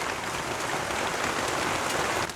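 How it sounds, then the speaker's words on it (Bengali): Water poured into a pan of shing fish curry with taro and potato, a steady close splashing hiss that runs unbroken and loud for the whole stretch. "এখন আমরা পানি দিয়ে দেব ঝোল করার জন্য।"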